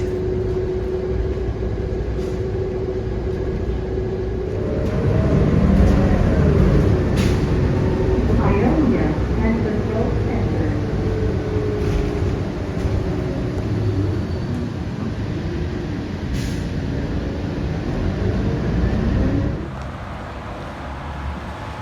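A Route 100 city bus in Grand Rapids, Michigan, cruising on the interstate, its engine and road roar a steady broadband drone that swells and rumbles through the middle stretch before easing down near the end.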